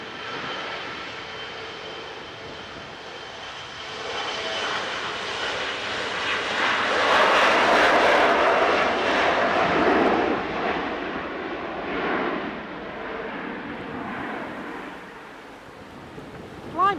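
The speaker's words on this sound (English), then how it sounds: "Blimey, that was noisy for an Embraer," An Embraer jet passes at Manchester Airport, its engine roar swelling to a loud peak mid-pass before gradually fading into the distance, with no voices.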